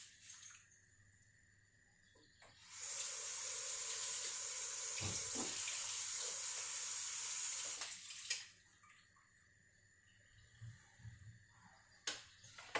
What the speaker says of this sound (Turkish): şimdi lavabo sesi duyuyorsunuz. Çünkü ben yıkama işlemi gerçekleştirdim